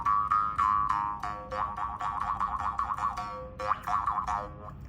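Bamboo Angkuoch, a Cambodian jaw harp, plucked in a rapid run of twangy, buzzing strokes with wobbling overtones, a short pause, then a second burst, close and clear with no talk.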